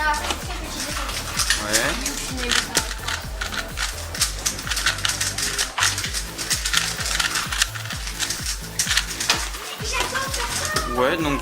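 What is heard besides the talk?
Rubik's speedcube being scrambled, plastic clicking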